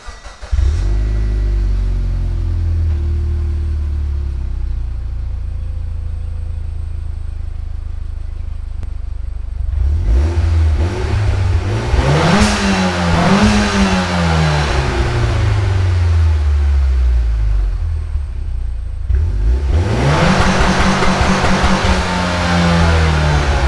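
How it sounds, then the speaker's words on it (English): A Mitsubishi Evo X with an ETS Extreme exhaust idles with a deep, steady burble, then revs hard in rising and falling sweeps, settles, and revs sharply again, loud and close. "give you an idle really quick, give you a high rev and then a two-step"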